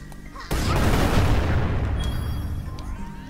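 Arcane magic blasts in Little Witch Nobeta hit as a sudden loud booming burst, then a broad roaring rumble that slowly decays with faint crackling.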